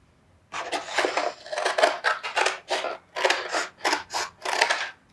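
Scissors snip through a paper square in a quick series of crisp, close cuts with brief pauses between them, heard alone.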